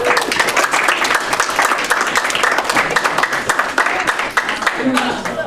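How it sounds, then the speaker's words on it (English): A small group claps indoors at an informal art activity, loose uneven hand claps close by with voices and cheers mixed in throughout. "Give her a round of applause."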